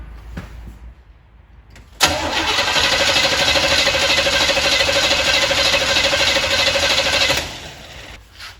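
Starter cranking a car engine with the distributor disconnected during a compression test, a loud, rapid, even churning that runs for about five seconds, preceded by quiet shuffling, then cuts off.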